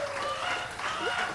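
A man imitates a rooster with his voice, a short rising crow performed live at a folk club gathering, heard over crowd noise and light applause.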